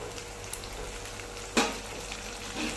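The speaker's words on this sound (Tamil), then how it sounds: "மீடியம் சைஸ் தக்காளி 2 எடுத்து அரைச்சி வச்சுருக்கேங்க." Ground paste of two medium tomatoes goes into a hot pan for a shallot kulambu, giving a steady low sizzle with a sharp burst of spattering as it hits the oil, then settling back to a quiet fry.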